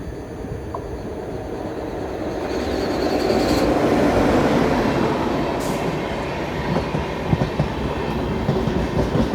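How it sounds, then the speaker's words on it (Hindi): Tirupati–Kolhapur Haripriya Express hauled by a WAP 7 electric locomotive rumbles past at close range, a steady loud roar of wheels and carriages that swells midway and keeps clattering to the end. "तिरुपति कोल्हापुर हरिप्रिया एक्सप्रेस, जो कि आ रही है, आ चुकी है, ज़्यादा वेट नहीं कराया उसने, WAP 7 के साथ आ रही है"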